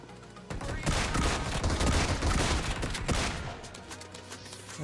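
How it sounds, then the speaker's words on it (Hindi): Rapid bursts of gunfire in the PUBG Mobile battle royale game crack out loudly and densely, overlapping volleys clustered in the middle seconds against a quieter background. "रोड पर से फायर आ रहा था"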